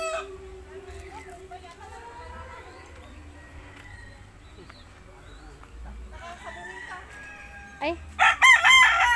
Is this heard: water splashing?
no